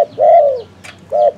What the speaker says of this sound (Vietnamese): Nó chịu gù, quỳ, nó chịu gù, mình cho nó gù luôn